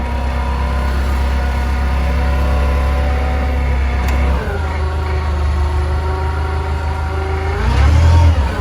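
A modified car driving across a rough field, its engine droning loud and close with a low steady rumble that shifts pitch midway, then rises into a brief rev near the end.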